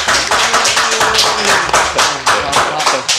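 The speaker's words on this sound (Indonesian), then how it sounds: "Tepuk tangan buat kita semua." A group of people claps together in a lively, regular rhythm, sharp close hand slaps repeating several times per second, with faint voices in the background.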